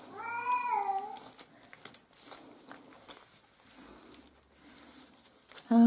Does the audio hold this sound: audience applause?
no